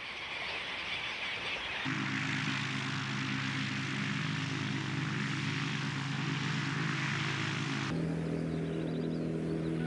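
A prototype two-seater ultralight aircraft's engine drones steadily in flight, a loud continuous buzzing hum that shifts pitch partway through and again near the end.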